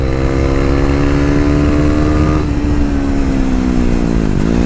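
KTM RC 390 motorcycle at full throttle, a loud close buzzing engine drone climbing steadily in pitch, with a brief dip as it shifts, then revving on.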